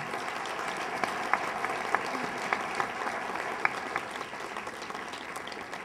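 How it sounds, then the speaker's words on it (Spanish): An audience at a keynote lecture applauding the doctor, steady clapping from many hands with a few sharper nearby claps, holding for several seconds and easing slightly at the end. "Le damos un aplauso al doctor,"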